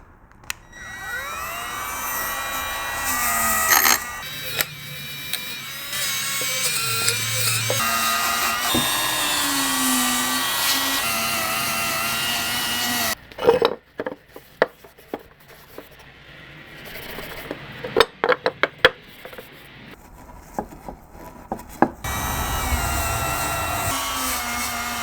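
Scotch-Brite pad scuffing parts of a Craftsman Model 397 grinder, a long stretch of steady whirring and tonal rubbing noise, then sharp scattered knocks and scrapes as the work shifts, recorded close with no talk.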